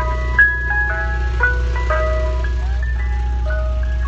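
Ice cream truck jingle from a GTA video game, a bright tinkling melody of single repeated notes playing steadily over a low constant hum, loud and close for the whole stretch.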